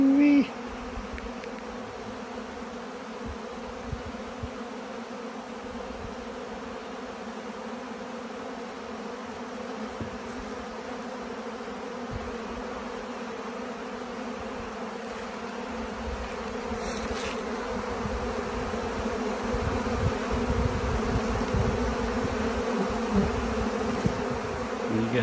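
A dense, continuous drone of many honey bees swarms over old hive frames as they rob them out, the buzzing close and steady for the whole stretch with a slight swell near the end.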